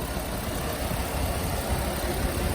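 A 2007 Jeep Wrangler Unlimited, lifted on 37-inch tires, idles steadily with a broad, even engine rumble and no talk over it.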